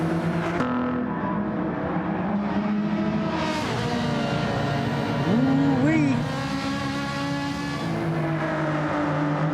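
A Ferrari race car in a sim racing series battles for position, its engine roaring and rising in pitch through a gear change, with a commentator talking over it.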